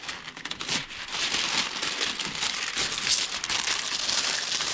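Old, already-loose material is peeled by hand off a '79 Wagoneer, giving close, continuous crackling and crinkling with bursts of tearing and rustling.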